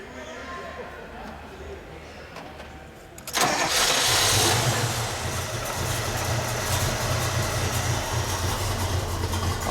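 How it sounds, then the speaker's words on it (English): A 1964 Pontiac GTO post coupe, once found in a farmer's field, cranks and fires, then settles into a loud, steady rumbling idle with a lopey big-cam exhaust note, heard up close. "We'll start it up, we'll get a little exhaust note"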